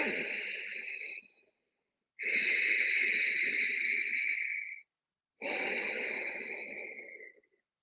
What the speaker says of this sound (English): just making a sound in the back of the throat.